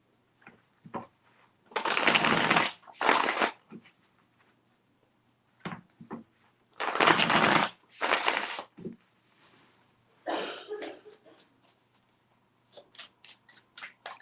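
Tarot cards are shuffled in three separate bursts, each a crisp riffling rush lasting a second or two, followed by softer taps and rustles of handling close by, with no talking.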